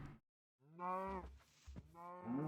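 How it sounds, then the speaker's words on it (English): Two low, drawn-out cow moos from the Minecraft video game, loud and close, with a short silence before the first call and a second moo rising near the end. "There's a bunch of times when cows sounded extremely different in Minecraft."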